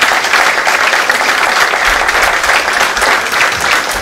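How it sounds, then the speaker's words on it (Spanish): A large audience at a chemical engineering week event gives steady, loud, dense applause honoring an engineer, a continuous roar of clapping with no pauses. "Un aplauso para el ingeniero Ramón Pela."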